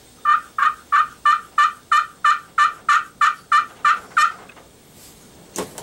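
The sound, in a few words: turkey call imitating gobbling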